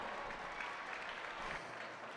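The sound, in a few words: applause for young steer show exhibitors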